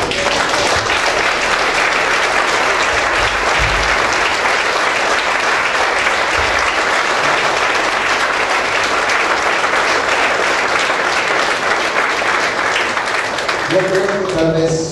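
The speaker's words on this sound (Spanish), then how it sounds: "Dale un fuerte aplauso." Loud, sustained applause from a church congregation during a Spanish-language service, a dense continuous wash of clapping that holds steady for about fifteen seconds before a voice begins at the very end.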